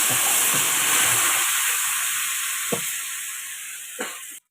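Water poured into a hot frying pan bursts into a loud steamy hiss that slowly fades, with a couple of sharp utensil clinks near the end.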